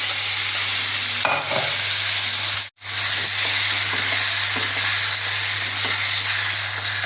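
A tamarind mixture with curry leaves and dried red chillies fries in a pan, giving a steady loud sizzle and hiss with occasional stirring scrapes, one brief dropout midway, and a constant low electrical hum beneath.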